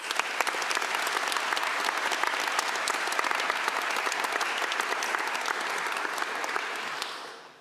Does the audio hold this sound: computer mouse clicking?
no